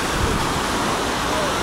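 Sea waves washing onto a beach at Alanya, Turkey: a steady broadband rush of surf, loud and continuous over a short stretch with no distinct voices.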